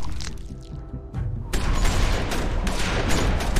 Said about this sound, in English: Why'd that bald guy shoot?